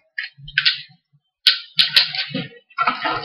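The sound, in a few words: Sentinel Prime Transformers toy being folded, joints clicking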